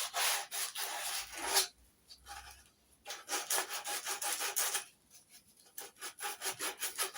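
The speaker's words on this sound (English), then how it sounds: "Once I've got this done, I can sand down the entire neck." A Telecaster guitar kit's wooden neck is sanded by hand with sandpaper in close, steady back-and-forth strokes, grouped into bursts with short pauses between them.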